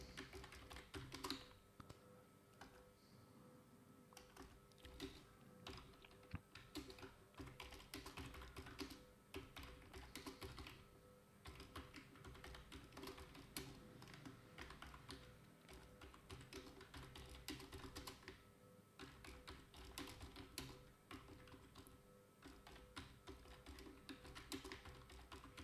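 Continuous keyboard typing on a computer as a prompt is entered, a steady flurry of close, crisp key clicks with brief pauses running throughout, no talking.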